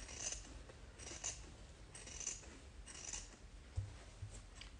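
Small embroidery scissors snip frayed threads in a quiet, close run of light, crisp cuts, roughly one per second.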